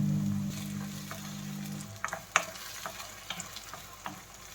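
Tomato, green chili and garlic sauté in a pan for a fish curry. A low hum opens the sizzle, then comes a sharp clatter of stirring strokes at an uneven pace, with no voices.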